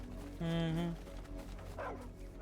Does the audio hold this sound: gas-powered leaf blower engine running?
no